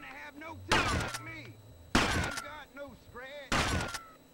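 Three loud, evenly spaced shotgun blasts in GTA Vice City Stories, each a sharp burst with a short ringing tail, heard over quieter game sounds and background chatter.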